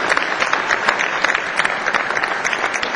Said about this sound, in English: let's give another round of applause to the traditional arts group from Beijing